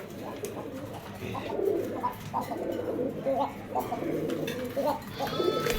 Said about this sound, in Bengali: এই যে হচ্ছে কোকার ডাক